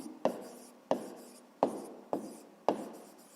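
A pen writes a math solution on paper in five short, regular strokes, each a faint scratch that fades quickly, close but quiet.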